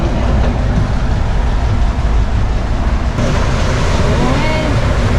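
Loud, steady rumble and rattle of a metro train running through Paris, a continuous roar of wheels on rails filling the ride from start to finish.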